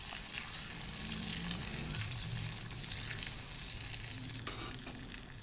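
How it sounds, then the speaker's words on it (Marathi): Almond slices and cashew pieces stirred with a spoon in a pan for rice kheer, giving a steady close sizzle under soft scraping with no voices. "बदामाचे काप, काजूचे काही तुकडे, आपण याला व्यवस्थित हलवून घ्या चमचाने"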